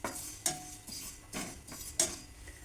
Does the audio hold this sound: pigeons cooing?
no